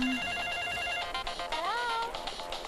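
A mobile phone rings close by with a bright melodic ringtone, a few repeated electronic tones followed by a rising, warbling phrase. It plays on its own without voices.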